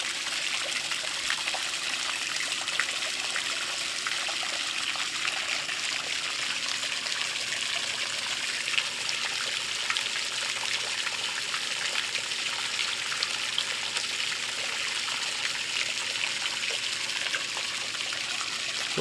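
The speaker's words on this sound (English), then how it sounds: "Fountain also gives like a nice kind of ambient sound of kind of water, running water, trickling water." Steady trickling and splashing of water from an Intex above-ground pool fountain, continuous and fairly close, with no voices.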